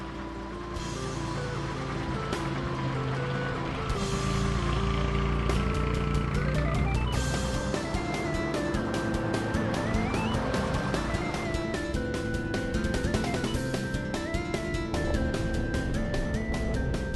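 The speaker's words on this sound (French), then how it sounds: "Il nous invite à faire un tour dans cette magnifique Bentley." A vintage Bentley carries passengers on a ride, its engine loud and close with a steady rumble while the pitch climbs and drops through gear changes. Rapid mechanical ticking runs throughout, with no talk.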